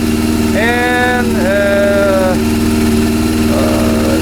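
Honda CB400 four-cylinder motorcycle engine idling steadily after a rebuild, a close, continuous low rumble with a faint whine above it; someone talks briefly over the engine noise.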